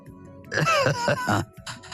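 A man coughs a few times in quick, throaty bursts, close to the mic, with no talk around it.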